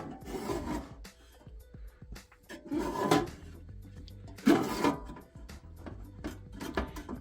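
A drawer on a blue Kobalt two-drawer mini steel toolbox with friction slides scrapes open and shut several times, giving gritty metallic rasps in separate bursts, quiet and close.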